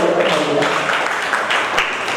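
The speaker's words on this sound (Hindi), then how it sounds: "जोरदार ताली में स्वागत करने लगते हैं।" An audience at a Yoga Day gathering gives a steady burst of applause, with dense, even clapping that stays at a fairly loud level for the whole stretch and has no talking over it.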